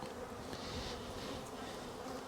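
Honey bees around a hive during a wildflower honey pull make a dense, continuous buzzing hum, close and steady throughout.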